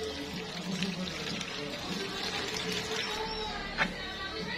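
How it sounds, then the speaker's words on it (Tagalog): Tap water streams steadily into a container in a Filipino home kitchen, a continuous close hiss and splash with a brief brighter splash near the end. "Isasahod ko pa yung tubig para makita natin talaga na malinis siya."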